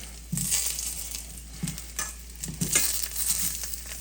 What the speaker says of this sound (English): continue to sear on this side